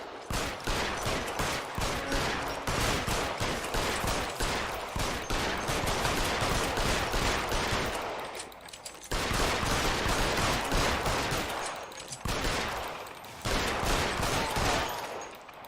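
A shootout in L.A. Noire brings rapid, continuous gunfire in long loud volleys, broken by a few short pauses, close and dense throughout.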